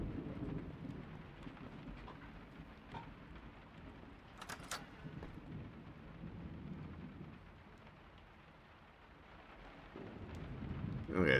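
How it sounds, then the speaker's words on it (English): Steady rain beats on the ground in the Miscreated video game, with low rumbling thunder swelling near the start and again toward the end; no talk. "look at how the rain's just beating up on the ground"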